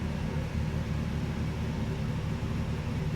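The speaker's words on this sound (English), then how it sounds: "Let you hear that idle for a second." A steady, deep truck engine idle rumbles continuously, close and even, with no voices.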